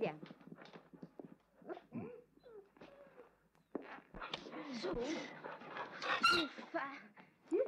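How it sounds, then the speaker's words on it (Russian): A stray dog pants and shuffles around indoors, with soft breathy huffs, light scrabbling and movement noises close by, mixed with voices. "Глупый пес, лежать."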